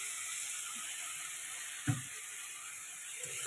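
Fried spice masala for a pabda fish curry sizzles with a steady, even hiss after a little water hits the pan, with one brief knock partway through.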